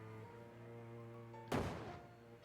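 In Shadows Over Loathing, an old stick of dynamite goes off against a rock. One sudden blast cuts through steady tonal game music and then fades into a short rumbling tail.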